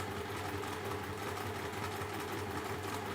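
A sewing machine top stitching in place, likely through cork, gives a continuous, even hum of rapid stitching, steady and moderately quiet throughout.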